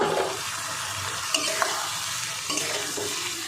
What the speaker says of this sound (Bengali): এবার দিয়ে দেবো এই যে ভেজে রাখা পটলটা, সব একসঙ্গে মিশিয়ে নেব